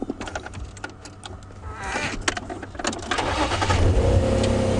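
An open safari vehicle's engine cranks, catches and revs as it pulls away, the motor building steadily louder over outdoor ambience with scattered clicks and rattles.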